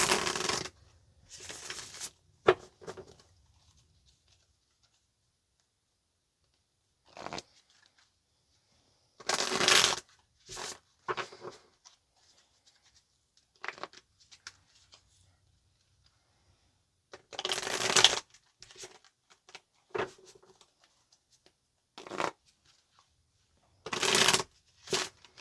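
Tarot cards shuffled in short crisp riffling bursts, several separate rounds with quiet pauses between, close and alone without talk.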